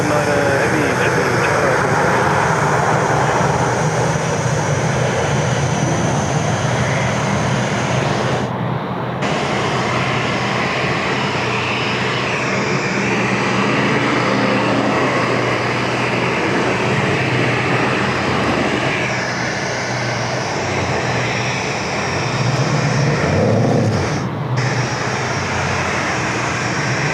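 Qantas jets rumble at Sydney Airport in wet weather, a continuous loud roar of engines with shifting whines over a steady low drone, and speech intermittently over it.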